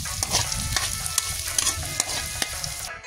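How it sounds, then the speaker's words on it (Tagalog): Garlic, onion and ginger sautéing in a pan, a continuous loud sizzle with sharp clicks of a utensil stirring through it, close up and without speech. "ginisa lang natin dyan guys ang bawang, sibuyas at ang luya para may aroma"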